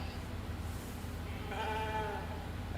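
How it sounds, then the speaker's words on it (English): A sheep in The Alters video game bleats once in a wavering, drawn-out cry over a steady low mechanical hum, fairly close and alone with no talk. "Pet the sheep."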